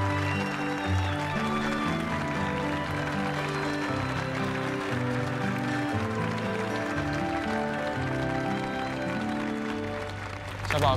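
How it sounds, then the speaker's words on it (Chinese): Applause for six bride-and-groom couples entering an outdoor group wedding ceremony, a sustained dense clapping wash under steady music-like tones, loud and continuous for about eleven seconds. "下面让我们以热烈的掌声有请六对新郎新娘入场。"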